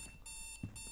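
An alarm from the horror video game Strange Night rings out as a loud, continuous electronic tone with steady high harmonics, briefly dipping and returning over under a second, with no talking.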